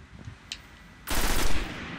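Automatic gunfire in the Destiny Crucible multiplayer mode, a few faint taps followed by a sudden loud, sustained burst of rapid shots up close.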